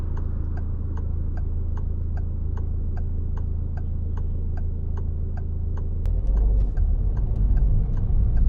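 A car's left turn signal ticks in a steady, even rhythm inside the cabin over low engine hum during a driving test in Newcastle-under-Lyme, then the engine note rises as the car pulls away.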